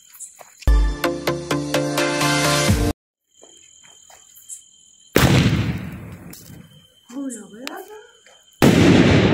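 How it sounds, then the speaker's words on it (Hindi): A three-color shot firework is let off outdoors, giving a quick run of sharp bursts followed by loud crackling blasts that come in separate spells with quieter gaps between them. "देखिए गाइस, थ्री कलर शॉट। अब इसकी बारी है, इसकी टेस्टिंग करते हैं।"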